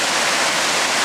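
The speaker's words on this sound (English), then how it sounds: "This is some serious rushing water here walking up to the waterfall." Water rushes loudly near the Briksdal Glacier waterfall in Olden, Norway, a dense, continuous roar filling the short moment.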